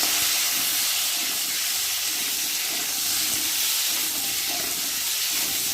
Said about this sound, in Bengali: চলো আলুগুলো ভালো করে ভেজে নিচ্ছি লাল লাল করে।